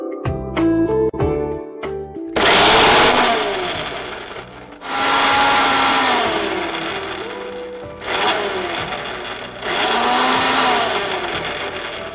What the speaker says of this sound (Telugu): ఇప్పుడు మనం దీన్ని మిక్సీ పట్టేసుకుందాం.